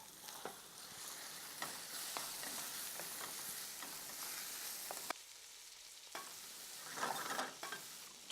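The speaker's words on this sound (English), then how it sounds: "what I'm going to do is put this pea and the asparagus puree into this as well" Pea and asparagus puree tipped into a pan with garlic for a pasta sauce and stirred, giving a steady soft sizzle with repeated scraping strokes, pausing briefly midway before resuming.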